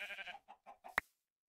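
Sheep in a Minecraft modpack game bleat in a short series of wavering calls, then a sharp click-like pop, with silence after.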